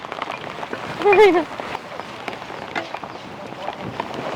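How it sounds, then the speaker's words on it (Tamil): Heavy rain drumming steadily on a tarpaulin in a village, a dense continuous hiss with a brief voice rising over it near the start. "அப்ப நல்ல மழை நல்லா ஃபுல்லா பெய்யுதுங்க"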